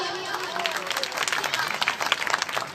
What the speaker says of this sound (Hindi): उनके लिए बहुत सारी तालियां।